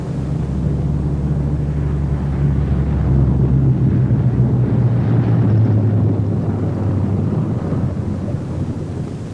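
Steady, heavy drone of propeller bomber engines, loud and continuous with a low rumbling hum, rising slightly midway as the bombers pass near while arriving at an airfield.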